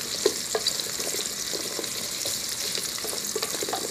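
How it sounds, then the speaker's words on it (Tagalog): Ginger sizzling in oil in a pan for chicken tinola, stirred with a steady soft frying hiss and a few light scrapes of a utensil, close and fairly quiet, with no talking. "Tapos halo-haloin siya hanggang sa medyo maluto-luto na yung luya"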